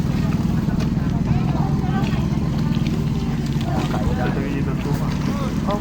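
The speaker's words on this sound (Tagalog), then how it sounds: "sasakay na po kami ng bangka" Steady low engine rumble of a boat with water wash, continuous and fairly loud throughout, with faint voices underneath.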